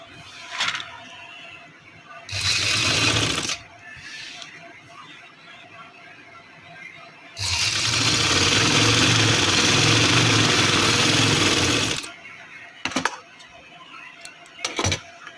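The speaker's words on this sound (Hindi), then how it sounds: "अब आप तो इस तरह से सिंपल तरीके से सिलाई लगा लेंगे।" A sewing machine stitches a baby girl's jhabla frock in loud, motor-driven bursts: a short run, a long steady stretch of several seconds, then brief stuttering stitches.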